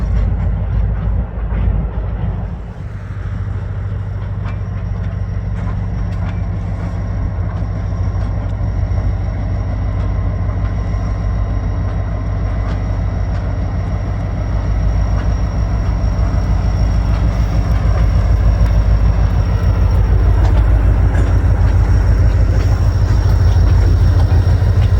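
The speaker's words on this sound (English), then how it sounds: "the Polar Express is slowly crawling through the yard at 5 miles per hour" The Polar Express passenger train creeps at about 5 miles per hour through the Ponderosa rail yard, giving a steady, loud, low mechanical rumble that swells slightly toward the end, with no voices.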